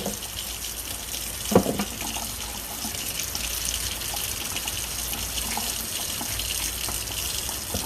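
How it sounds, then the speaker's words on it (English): Root vegetables for a Dominican sancocho being rinsed under a running kitchen tap, a steady close hiss of flowing water with a brief louder splash or knock partway through. "we're gonna wash and cut these open"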